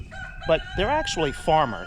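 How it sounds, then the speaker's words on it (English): Chickens on a rural homestead cluck and call in the background, with a rooster-like crowing pattern repeating several times under a person talking nearby. "you can hear the chickens in the background"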